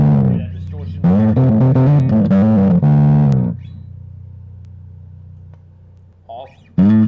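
Peavey MiniMax bass amp head with the distortion engaged, playing loud, gritty bass notes in bursts for about three seconds, then a sustained ringing tone that decays before a few more short notes.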